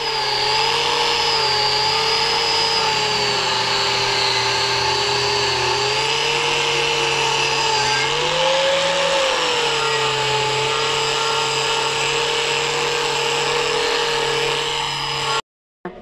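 A power tool whines continuously and loudly, its pitch wavering slightly, as it scours rust off cut metal pipes for a homemade double rocket stove, then cuts off abruptly just before the end.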